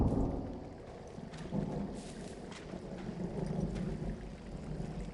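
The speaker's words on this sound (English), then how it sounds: "Hey, I heard some thunder." Rolling thunder with steady rain in the video game Firewatch, a continuous low rumble swelling and easing over falling rain, no talk.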